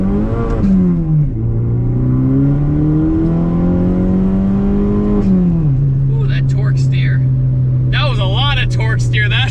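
A Chevy Cobalt SS accelerates hard from a roll, the loud engine note climbing steadily in pitch, dropping briefly at a gear change, then pulling again, with someone talking over it toward the end.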